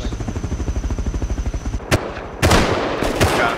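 Gunfire in the video game Rust: a fast, rapid burst of automatic shots in a steady rhythm, followed by a few sharper, louder single blasts near the end, with no talking.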